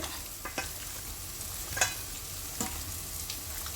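Raw desi chicken being mixed by hand with turmeric and chilli powder, giving soft, quiet squelching and rubbing sounds in a few light bursts, with no talking.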